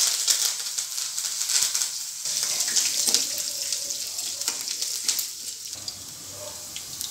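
Curry leaves, green chilli and ginger frying in hot oil in a pan, a steady bright crackling sizzle throughout with a few louder spits and stirring sounds, no talking.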